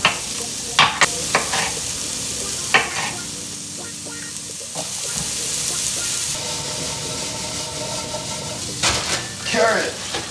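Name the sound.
dry frying onion and peppers for stir fry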